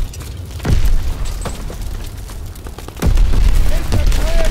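Two deep booms of grenade explosions in Call of Duty WW2, each a sharp low thump followed by rumble, set amid a battlefield din of distant fire.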